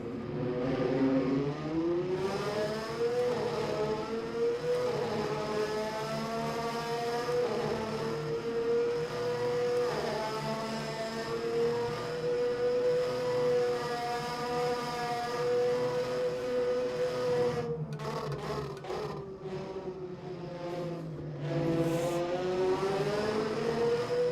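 A 1988 Formula 1 race car engine in the rFactor 2 simulation at the German round screams continuously near and loud, pitch rising and falling through gear changes and corners, with brief dips and sharp downshift crackles.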